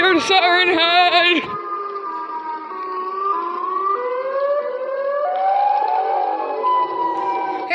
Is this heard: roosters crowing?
no